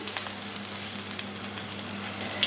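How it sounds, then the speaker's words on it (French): Thai roti pancake dough sizzling in a hot pan, a steady crackling fry with small pops and hiss throughout, close and fairly quiet, with no voices. "Maintenant il faut bien faire cuire la pâte sur les côtés aussi."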